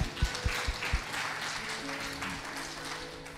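A church congregation at a French-language worship service breaks into applause, with a few sharp claps up front settling into a steady, moderately loud wash of clapping mixed with voices.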